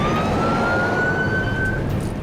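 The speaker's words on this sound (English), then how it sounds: "We got a fire truck up here on our side." A siren wails steadily with a slowly rising tone, fairly loud over a constant rumble of traffic or engine noise.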